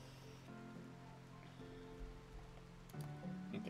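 Steady rain falls in the RimWorld game as soft, continuous broadband patter, quiet and unbroken, with a few faint tonal game sounds layered over it and no talking.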